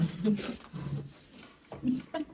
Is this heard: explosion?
no